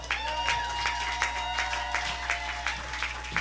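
A church congregation applauds in steady rhythmic clapping, a continuous layer of many hands close by, lasting the whole stretch.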